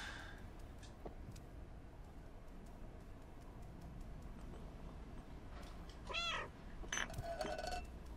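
Cat meows in the Stray video game, a few short rising cries around the middle of a steady ambient game background, with a faint chirpy call near the end, no talking.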